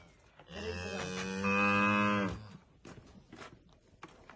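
A cow and her calf moo on a farm in a Kazakh village, one long tonal moo swelling and holding for about two seconds before fading, followed by soft rustling and faint grunts nearby.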